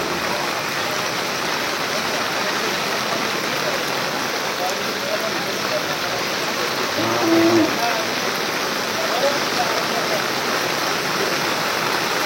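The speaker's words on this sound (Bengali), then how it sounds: "জোরসে পানি এসে গেছে।" Heavy rain pours down on an outdoor cattle market, a dense, loud, continuous roar of water on surfaces with a faint brief voice or animal call partway through.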